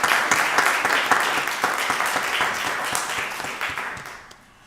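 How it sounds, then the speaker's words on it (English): A room full of people at a Rockdale County board of commissioners meeting applauds Ms. Candy Rapp, with dense, sustained clapping that holds steady before thinning out near the end. "Y'all give her a round of applause"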